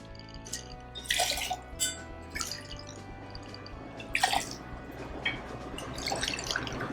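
Vodka is poured into cocktail tins for a dirty martini, giving several short splashing pours and drips that start and stop, close and fairly quiet, with no talking.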